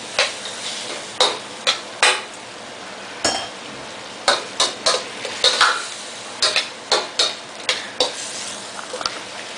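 Asparagus and onions fry in a pan for chop suey, with a steady sizzle broken by repeated sharp clacks of stirring and tossing at an uneven rhythm, close and fairly loud.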